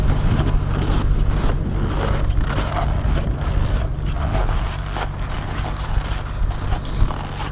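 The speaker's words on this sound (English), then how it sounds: "Especially with the wind right now" Wind gusting steadily across open ice during commercial gill-net fishing under the ice, a constant loud roar with a low rumbling buffet that continues throughout without pause.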